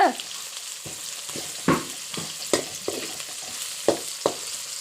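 Masala sizzles in a pan for a village fish curry, with repeated stirring scrapes and crackling bursts at an irregular rhythm, close and clear.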